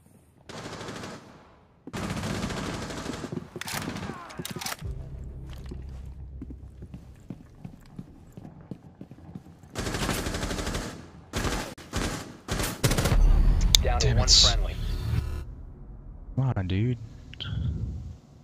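Bursts of rapid automatic gunfire during a Rainbow Six Siege match, loud and intermittent, separated by quieter stretches of footsteps and clicks, with a voice talking at moments.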